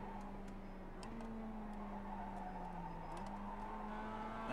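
A Mazda race car engine in iRacing holds a steady drone that dips in pitch as it downshifts, with faint ticking over a low, even hum.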